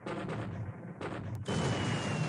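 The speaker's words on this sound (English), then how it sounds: "No, it's definitely torpedoes." Torpedo explosions in the naval war game War in the Pacific, with dull broadband blasts rumbling over about two seconds, the loudest and fullest burst arriving near the end.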